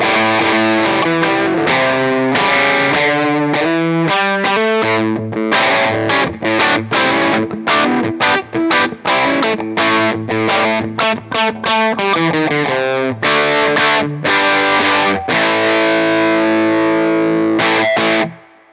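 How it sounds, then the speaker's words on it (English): Electric guitar driven hard through a Small Speaker Overdrive pedal with the gain cranked up, playing a loud, busy run of distorted notes and chords with a honky, pushed-amp tone, close and continuous until it stops abruptly at the end. "if we crank it right up, then you hear that honky resonance start to come out, and you get the feel of a little amp that's really being pushed hard"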